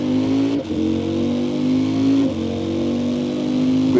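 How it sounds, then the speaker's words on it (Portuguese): Motorcycle exhaust while riding, a loud continuous engine drone with steady pitch and two brief dips where revs drop and climb again, close and dominant. "Vamos só ouvir aqui um bocadinho o escape da moto."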